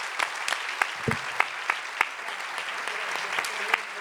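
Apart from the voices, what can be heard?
applause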